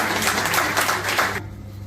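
An audience at a Rotary Club installation ceremony bursts into dense, loud applause that carries for over a second before cutting off abruptly into quiet.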